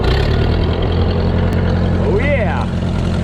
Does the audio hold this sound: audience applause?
no